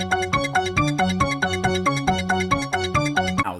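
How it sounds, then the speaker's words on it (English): The Halloween 2 (1981) horror theme in its heavily synthesized form: a fast, repeating electronic piano-like arpeggio pattern pulsing steadily and clearly throughout, with no voices. "Now, this is the over-synthesized score."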